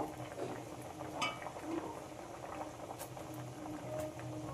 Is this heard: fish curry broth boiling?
yes